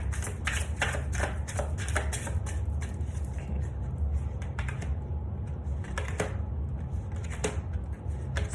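Tarot cards are shuffled and dealt out onto a surface in a close, steady run of rapid riffling flicks and soft slaps, with no voices over them.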